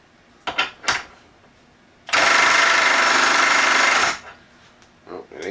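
A Milwaukee M12 Stubby impact wrench in mode 1 at 40 foot-pounds hammers for about two seconds against a bolt that will not back off, loud and close, with short clicks and handling noises before and after.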